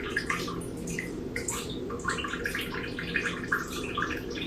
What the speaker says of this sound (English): It's just draining the system.